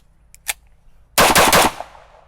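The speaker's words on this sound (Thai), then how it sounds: "นี่ก็เป็นขนาด 9 มม นะครับ โอเคไปดูกันเลยครับ ว่ามันจะติดขัดไหมผมจะรัวเลยนะครับ" A 9 mm semi-automatic pistol loaded with ARX ammunition fires a fast string of four or five loud, close shots after a faint mechanical click, then the echo dies away.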